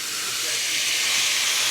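Water splashed into a hot frying pan of diced breakfast food sizzles into a steady, loud, hissing steam that holds evenly throughout.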